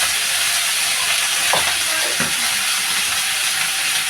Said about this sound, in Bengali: আলু ভাজাটা দিয়ে দিলেন, দিয়ে একটু নাড়াচাড়া করে দেবেন